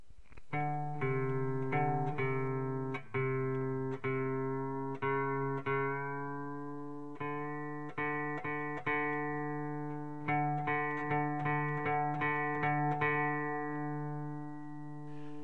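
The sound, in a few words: guitar string being tuned with tuning peg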